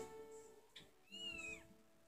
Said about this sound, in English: Did you get the cat yet?